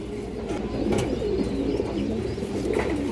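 Several large, healthy pigeons coo together, overlapping low warbling calls over a steady background hum, close by.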